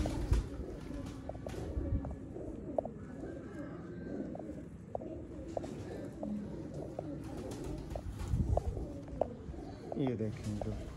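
Breeder pigeons coo in soft, repeated calls close by, heard under someone talking throughout.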